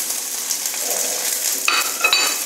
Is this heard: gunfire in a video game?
no